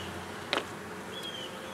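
Bees at a neglected hive, a faint buzzing with a brief louder buzz as one passes close, over a low background hum.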